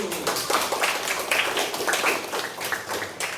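Students in a classroom give a round of applause: many hands clapping together in a dense, lively patter with quicker accented bursts, moderately close and steady throughout, with no talking over it.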